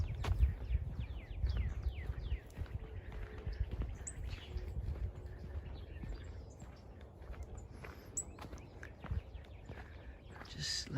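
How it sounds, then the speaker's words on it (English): Birds chirping and calling in the woods near a bird viewing area at Lake Corpus Christi State Park, Texas, in early February, with scattered short tweets at moderate distance over soft footsteps and low outdoor rumble. "Just let you listen to the birds while I walk around."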